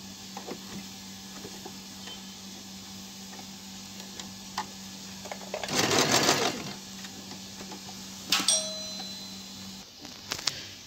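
A sewing machine stitches elastic onto fabric for bloomer shorts or a diaper cover, running in one loud, rapid whirring burst and a second shorter one, with quiet room tone between.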